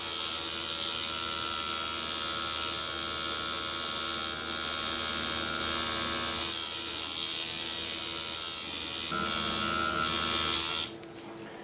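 A steady, close electric buzzing from a tattoo machine lining skin runs without a break for most of the clip, then cuts off abruptly near the end.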